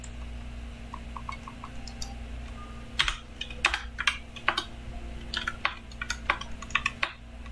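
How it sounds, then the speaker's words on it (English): Keys on a computer keyboard are tapped and pressed in quick irregular bursts, close and fairly crisp over a steady low hum, growing busier after the first few seconds. "I'm pressing every button on my keyboard right now."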